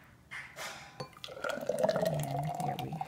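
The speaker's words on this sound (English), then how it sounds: "we're gonna go ahead and pour that inside of my cup" Thick chocolate banana smoothie poured from a blender into a cup, a soft liquid glug and trickle that starts after a couple of light knocks and builds into a steady close pour with rising pitch as the cup fills, no talking.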